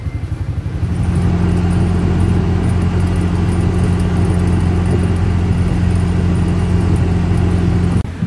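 Road traffic heard from inside an auto rickshaw travelling the Goa to Mumbai road: a loud, steady engine drone rises after a quieter start and is joined by faint intermittent high tones, with no talking.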